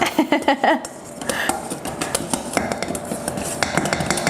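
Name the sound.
stirring salad dressing in a bowl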